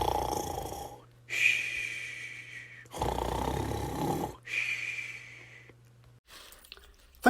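Cartoon snoring from Daddy Pig, a cartoon pig, in a room: alternating deep rumbling inhales and whistling exhales, repeated slowly and fairly close with a low hum underneath.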